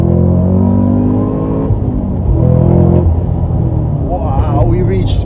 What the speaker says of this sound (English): On the gas, second gear, on the gas.